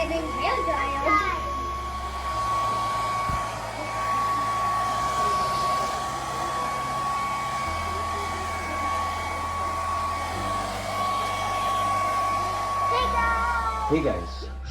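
A handheld hair dryer blows continuously and loudly nearby, its steady airy roar and thin tonal whine holding throughout, with faint child chatter and small bumps at the start and end.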